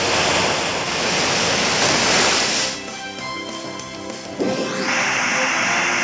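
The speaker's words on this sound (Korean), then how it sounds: "파도타기를 둘 다 전부 다 써보겠습니다" The Surf move in Pokémon Omega Ruby swells into a loud roaring wash of game water-wave noise that fades partway, then a whooshing splash returns near the end.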